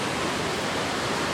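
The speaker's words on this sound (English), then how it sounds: "It's just because all that churning and the water coming out that hole" Water churns and foams out of an outlet at Hoover Dam, a dense unbroken rushing roar over a brief moment.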